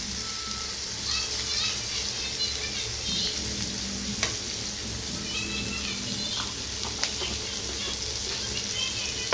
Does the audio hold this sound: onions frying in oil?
yes